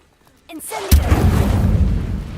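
Casting the Incendio fire spell in Hogwarts Legacy sets off a quick whoosh, then a sharp burst that settles into steady crackling fire, close and fairly loud.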